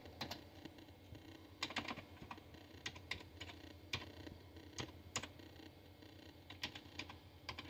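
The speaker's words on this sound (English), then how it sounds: "Hate typing with one hand." Typing on a computer keyboard with one hand, connected to a Pentium system, gives irregular bursts of close, crisp key clicks with uneven gaps, no voices.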